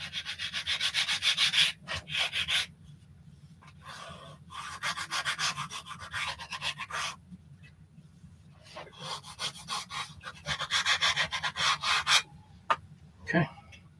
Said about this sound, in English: Once you hear the scrape of the plywood